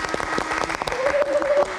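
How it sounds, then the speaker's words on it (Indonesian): A studio audience on a live talk show claps through the moment at moderate loudness. A presenter's voice runs over the applause, and a brief tonal sound rises in the middle. "Kita beri tepuk tangan untuk Mbak Camelia."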